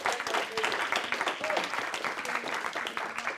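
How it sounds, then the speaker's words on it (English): A university audience claps in steady, moderately loud applause lasting a few seconds, with a few voices briefly audible underneath. "So please give a big round of applause to Nina Lansen, student enterprise manager"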